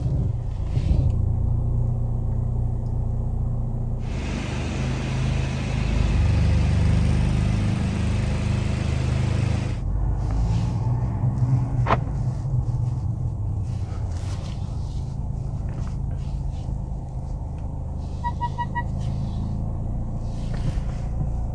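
A 2023 Mercedes-AMG C43 pulls away slowly in drive at night, a low engine rumble and hum under a steady cabin or road noise, fairly quiet with a few faint chimes and clicks.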